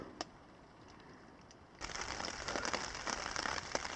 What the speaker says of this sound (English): Still not raining hard, but it's the kind of rain that is real persistent